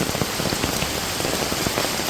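Village rain falls steadily onto surfaces, a dense, close patter of drops with no voices.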